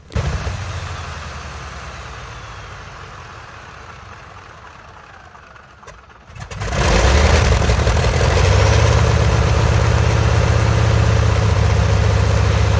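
A big old aircraft piston engine, the type used on Super Constellation airliners and Sea Fury and Bearcat racers, turns over with a low, uneven rumble during a cold start. It then catches and swells into a loud, steady, deep roar.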